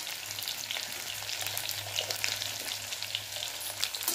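Chopped onion, crushed garlic, cumin and mustard seeds with a pinch of asafoetida sizzle steadily in hot oil in a pan, a continuous close crackling fry with soft stirring scrapes.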